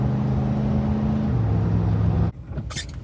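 An old Ford truck drives with a steady engine drone and a shift in pitch partway through, loud and close, then the engine sound drops away abruptly near the end, leaving faint high clatter.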